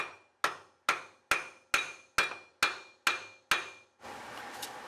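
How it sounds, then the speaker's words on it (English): Small hammer tapping a Mustang axle into place during a brake system rebuild: eight sharp, evenly spaced metallic strikes, close and clear, followed by a brief rustle of handling. "Little hammer."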